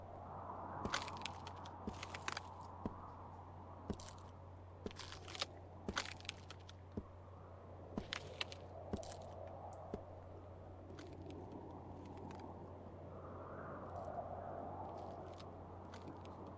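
Ice crunching and cracking underfoot in The Walking Dead Season 2 game, a run of crisp snaps and crackles spread unevenly over a low steady hum, with scattered louder breaks and no talk.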